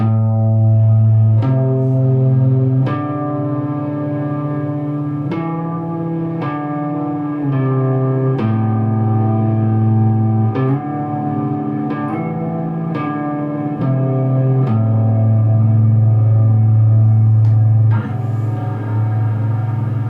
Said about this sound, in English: Then I've got a Afterneath reverb by Earthquake Devices.